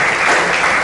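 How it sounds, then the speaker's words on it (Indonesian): A brief, loud burst of dense clapping from an audience at a farewell gathering for a Catholic friar, heard only for an instant with no pause or fade. "Ya, kita tepuk tangan dulu untuk"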